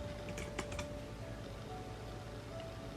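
Brief bursts of typing on a computer keyboard: a few quick, close clicks near the start, then lighter tapping under a steady background hum.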